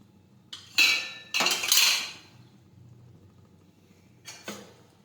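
Metal spoon clinks and scrapes against a steel pot while spices, salt and lemon juice are mixed into cooked urad dal, several clustered clatters then a brief pair of clinks near the end, close and moderately loud.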